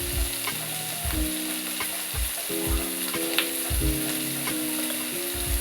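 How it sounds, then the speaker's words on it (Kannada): Onions sizzling and frying in a pan for a Kannada-style radish palya, with a constant close crackle and repeated scraping stirs of a spoon against the pan. "ಇದು ಈರುಳ್ಳಿ ಚೆನ್ನಾಗಿ ಫ್ರೈ ಆಗಬೇಕು"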